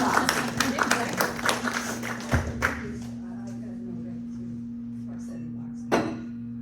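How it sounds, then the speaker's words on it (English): A small Pilates class for people with Parkinson's and other neurological disorders breaks into brief, scattered clapping that fades after a couple of seconds, followed by a single knock near the end. "give her a round of applause"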